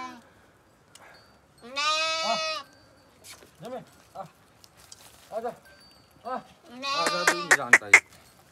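Goats on a Himalayan dog farm in Uttarakhand bleat loudly in two long, wavering calls, one near the start and another near the end, with quieter short animal sounds in between.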